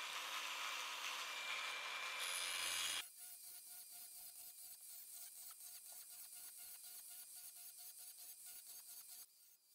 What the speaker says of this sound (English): I'm cutting some grooves into the plastic in a cross-hatch manner